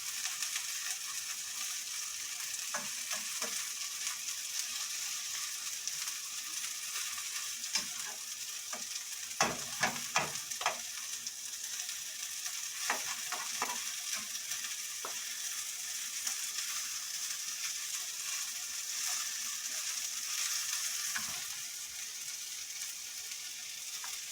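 Oyster pancakes with egg fry in a pan, giving a soft, steady sizzle with a cluster of sharp spatula clicks and scrapes midway, close and fairly quiet, no voices.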